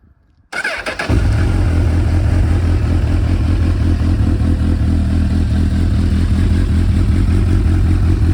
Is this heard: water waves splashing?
no